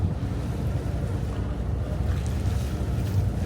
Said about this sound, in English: this is a pretty good water taxi ride here